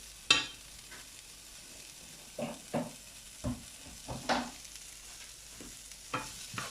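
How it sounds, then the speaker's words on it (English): Leftover fried vegetables are stirred and tossed in a frying pan for fried rice, with a series of scraping, clattering strokes over a faint sizzle, close and fairly quiet. "I'll just put it in the frying pan, fry it again"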